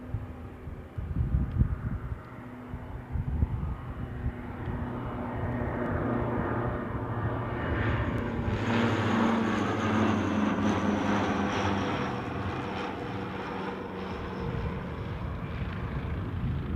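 A small aircraft inbound to Newcastle airport drones steadily with propeller hum, approaching from a distance and growing louder and closer over the span, with outdoor background noise throughout.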